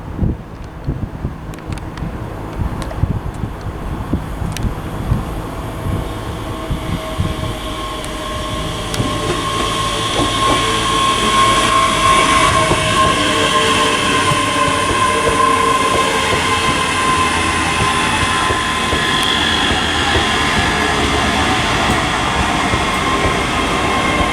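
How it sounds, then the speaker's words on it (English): ScotRail class 385 electric unit 385120 pulls into Stirling station on the Edinburgh to Dunblane service. Rumbling and clattering build from faint to loud, then a steady close hum and wheel noise hold as it draws in, with no talking. "arriving now is going to be the 1130 ScotRail service to Dunblane from Edinburgh, which is 385120"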